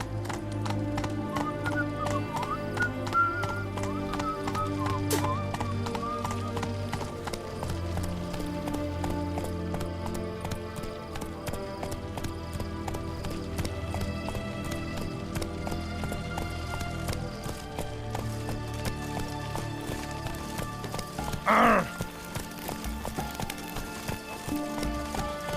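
Geralt's horse Roach from The Witcher 3 gallops with steady, rhythmic hoofbeats throughout, loud and close, with a brief burst of noise near the end.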